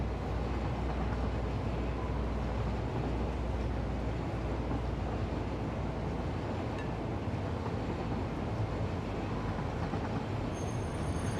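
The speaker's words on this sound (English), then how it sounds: "Not with this behemoth of a train anyways." A large freight train runs along the tracks in the video game Satisfactory, producing a continuous, even rumbling roar that holds steady throughout with no voices over it.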